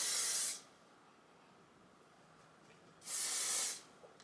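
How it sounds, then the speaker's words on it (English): Living Proof Flex hairspray sprayed in two short hissing bursts, close and fairly loud, separated by a quiet pause of about two seconds, with no talking. "I'm going to be using the Living Proof Flex hairspray."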